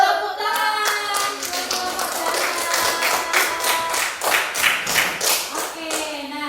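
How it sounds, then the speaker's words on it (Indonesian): Classroom applause from a group of third-grade pupils at the end of a lesson, a steady stream of many small hands clapping together, fairly close and lively, swelling slightly toward the end. "Tepuk tangan."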